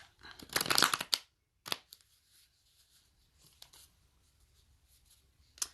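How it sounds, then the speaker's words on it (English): A burst of tarot card shuffling, a dense riffling flutter, followed by a few softer slides and taps of cards in an otherwise quiet room. "I'm going to go ahead and shuffle."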